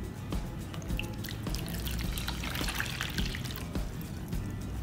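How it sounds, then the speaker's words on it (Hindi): Water is poured from a glass into a microwave-safe container while making garlic tea, a steady trickling, dripping pour that runs close and continuous for about five seconds with no voices. "1 ग्लास पानी डालेंगे।"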